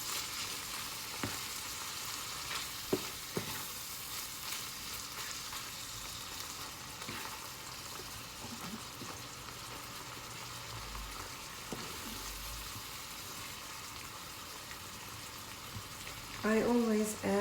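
Grated tomato is stirred into a frying pan of filling for börek, a soft, steady sizzle with occasional scraping taps of the utensil, and a voice briefly near the end.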